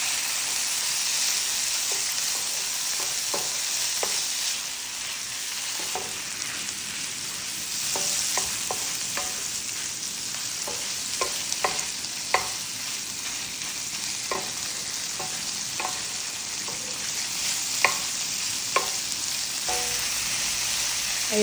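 Chicken stir-fried in a pan with ginger and garlic, a continuous loud sizzle with repeated scraping clicks of a utensil stirring at irregular intervals.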